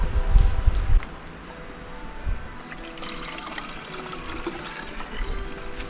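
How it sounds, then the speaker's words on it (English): Water from a backpacking bottle pours and trickles into a dog's bowl at a creekside camp, a loud splashing burst at the start, then softer steady dribbling amid outdoor rustle. "I'm gonna fill Rusty's bowl with this"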